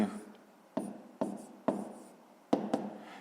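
Pen strokes writing numbers by hand on paper during a maths exercise, a few short scratchy bursts spaced irregularly, close and fairly quiet.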